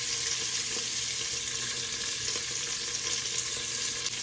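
Onions sautéing with mustard seeds and cumin in a clay pot, an even, close hiss of frying that holds steady throughout without pauses or voices.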